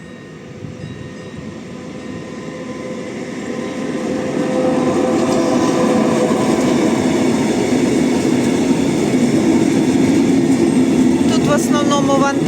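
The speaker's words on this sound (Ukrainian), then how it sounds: "вантажні потяги їздять." A freight train rolls past a railway level crossing with no barrier, its wheels rumbling and clattering steadily, growing louder as it draws near, with a signal chiming toward the end.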